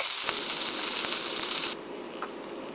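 Fish and shrimp sizzle in a hot pan: a loud, steady, hissing sizzle close up that suddenly drops to a softer, quieter fry partway through.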